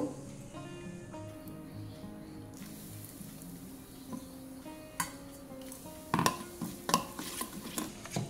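Mango pieces mixed with pickle spice mix and hot oil in a bowl, first a quiet steady backdrop, then several close scraping, clinking stirs of a spoon against the bowl toward the end.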